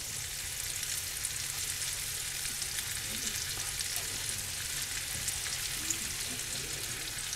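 Trumpet mushrooms sautéing in a skillet as a side for steak, a soft continuous sizzle with light scraping underneath, fairly quiet and steady throughout without talk.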